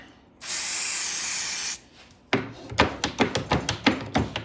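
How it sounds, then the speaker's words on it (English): A short hiss of spray lubricant applied to a tap for threading, lasting just over a second, then a run of sharp, close tapping and clicking sounds. "I'm going to put a little bit of lubrication on there"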